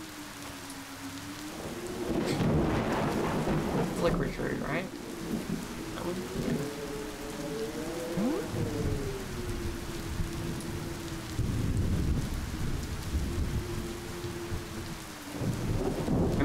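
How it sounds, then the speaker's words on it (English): Heavy rain pours steadily in the video game Cattails with low rumbles of thunder rolling through, loud and continuous, while a person talks briefly over it. "I miss the music now that it's just rain noises."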